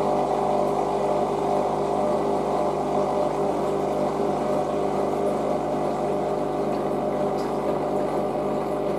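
A Hotpoint WM63 washing machine runs its final spin cycle on a 40ºC non-colourfast cotton programme, giving a steady, loud, continuous drone and whirr that holds constant throughout with no speech.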